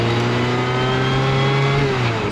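A Ferrari F355 engine pulls steadily while the car drives along, a loud, continuous, close mechanical drone with layered harmonics and a slight rise and fall in pitch near the end.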